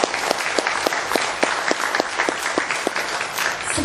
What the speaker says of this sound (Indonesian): Tepuk tangan buat Portir.